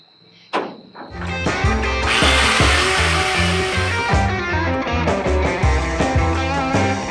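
A power cutting tool cuts a metal cup off the frame of a 1927 Ford Roadster, a loud continuous whining grind with a pulsing rhythm that starts after a brief clunk, close up, no speech.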